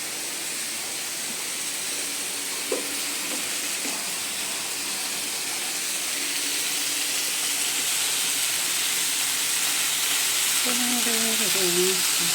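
Chicken pieces frying in a pan for Batangueño-style adobo, a steady loud sizzle and hiss throughout, with faint stirring clinks and a brief voice near the end.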